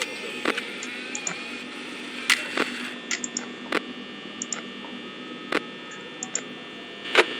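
A steady electric fan hum runs through the night-shift office in Five Nights at Freddy's, faint and constant beneath scattered sharp clicks and ticks.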